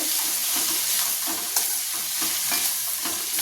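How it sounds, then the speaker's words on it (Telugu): Amaranth leaves with half a spoon of salt being stirred in a hot pan, a loud, close, continuous sizzle broken by scraping strokes of a spoon, with no voices. "తోటకూర వేసుకున్నాక ఒక 1/2 స్పూన్ ఉప్పు వేసుకొని కలుపుకొని మూత పెడితే తోటకూర మగ్గిపోతుంది."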